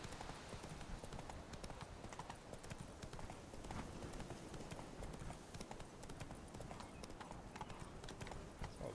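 Horse hooves clip-clop steadily in The Witcher 3, a continuous rhythmic trot over a soft ambient game background.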